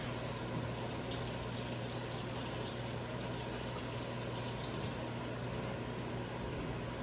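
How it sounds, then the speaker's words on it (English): Tap water runs steadily into a sink while hands are washed, a constant close hiss and gush with no talk, lasting the whole stretch. "Give my hands a quick wash."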